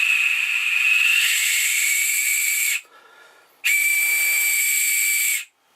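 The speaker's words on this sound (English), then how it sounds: "I'll blow it gently and then I'll build up pressure." A handmade survival whistle gives two long, shrill, breathy blasts close up, each held steady for a few seconds with a short pause between, the tone firming as the blowing pressure builds.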